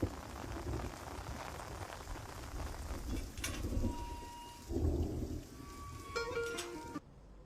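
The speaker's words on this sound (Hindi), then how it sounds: "रुको, बरसात हो रही है, छाता लेकर जाओ।" Steady rain pours down in a dense, even hiss, with occasional low rumbles mixed in, before the sound cuts off abruptly near the end.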